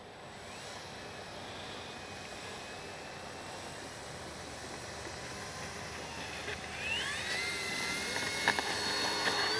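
An X-Fly Spitfire RC model plane runs up for takeoff with a steady, high electric whine that climbs in pitch and grows louder toward the end, over faint background noise.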